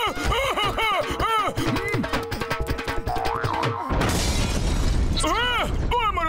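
A cartoon blast as a frozen chemical ice cube bursts, a sudden loud noisy crash taking over from music and zany effects, followed by cartoon voices.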